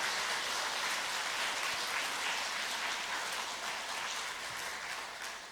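Sustained applause from a large church prayer-meeting crowd, a dense wash of clapping that holds steady throughout and eases slightly at the end.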